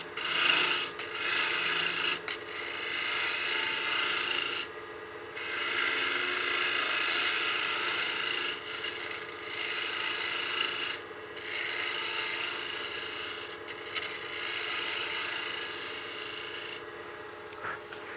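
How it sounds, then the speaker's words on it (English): A wood lathe spins a utility box blank while a turning tool removes material to expose a tenon, giving a steady, close rasping scrape that runs nearly the whole time with a few brief pauses and no talking. "All right, I'm going to start the lathe back up again. And I'm going to remove some material here just to expose a little more of a tenon."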